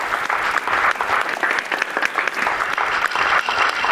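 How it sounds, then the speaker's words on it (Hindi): An audience in a courtroom applauds with dense, continuous clapping, fairly close and steady, with no voices cutting through. "ये लोग मेरे लिए नहीं ताली बजा रहे हैं"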